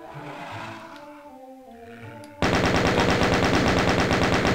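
Rapid machine-gun fire in the video game The Ultimate Doom, starting suddenly after a quieter stretch of game sound and rattling on in fast, loud, evenly spaced bursts until the end.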